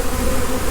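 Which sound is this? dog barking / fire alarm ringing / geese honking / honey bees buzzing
honey bees buzzing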